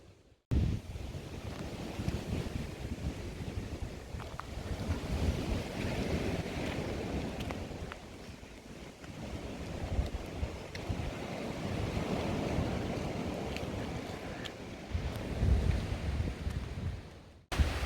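Sea waves wash onto a beach on the Turkish coast in March, steady close surf with gusting wind buffeting the microphone, the roar swelling and easing throughout with no voices.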